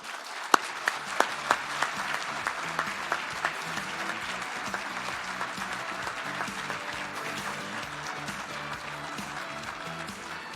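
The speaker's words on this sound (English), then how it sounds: "please join me in giving a round of applause to welcome on the stage" Sustained applause from a large audience at a formal tribute evening welcoming Admiral Mike Mullen to the stage, continuous clapping with a few sharper claps standing out near the start, a soft murmur underneath.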